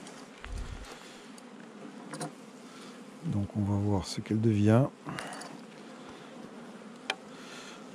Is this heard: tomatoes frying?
no